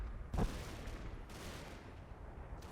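Gunfire in the Combat Mission Battle for Normandy wargame, one sharp near shot followed by a faint steady wash of distant rifle and machine-gun fire rolling over a village.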